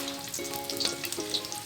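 Garlic fries in oil in a pan for bopis pinaputok, cooked outdoors in a backyard, giving a steady, close sizzle with light crackling and faint stirring.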